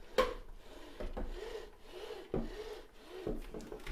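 Steady rubbing and whirring friction of a Thrustmaster TMX Pro racing wheel free spinning, a soft grinding swish that swells and fades with a few light knocks, close and quiet.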